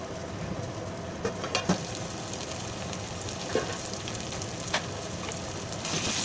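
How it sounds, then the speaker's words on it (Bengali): Ginger, garlic and onion fry in a pan with a steady, close sizzle and crackle. Occasional sharp clicks of a utensil against the pan break through the even hiss. "এবার আদা রসুনটা পেঁয়াজের সঙ্গে মিশিয়ে আমি ভেজে নিচ্ছি।"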